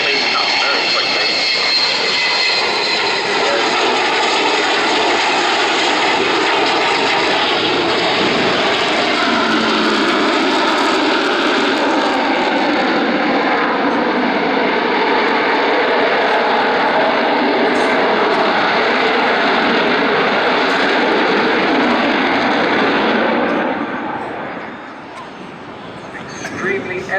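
Avro Vulcan XH558 jet bomber flying a display at Dunsfold, a loud, sustained roar of its jet engines that swells and holds for over twenty seconds before easing off.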